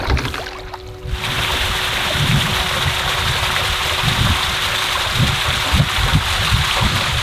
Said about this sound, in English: I hear a little waterfall